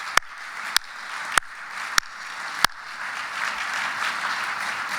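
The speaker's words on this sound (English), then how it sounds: "Please give the good governor and the First Lady a round of applause" Applause from a crowd at a National Governors Association summer meeting swells steadily, a broad wash of clapping, with a few sharp loud pops standing out near the start.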